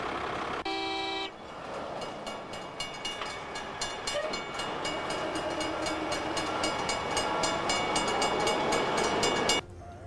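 Trains at a rail yard with a locomotive roundhouse and track-repair trucks: a brief horn toot near the start, then a steady loud rumble and clatter of rolling rail cars with rhythmic wheel clicks that cuts off near the end.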